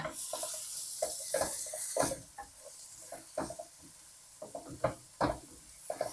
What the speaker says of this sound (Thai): แล้วก็ผัดให้ข้าวหอมไปเลยนะ